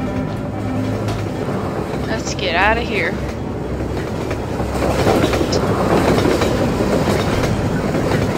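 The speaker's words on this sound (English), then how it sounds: "Train's coming." A train rumbles past in Half-Life 2, a steady rolling clatter with a metallic squeal midway, loud and close, while a player talks over it.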